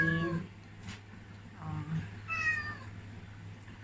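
A pet cat wrapped in a towel after a bath meows several times, fairly close and moderately loud, with short rising cries spaced a second or so apart over a low background hum and a brief spoken exclamation.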